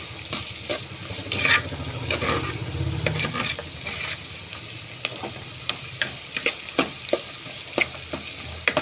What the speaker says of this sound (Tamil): நல்லா வெங்காயம் வந்து பொன்னிறமாக வதங்கணும்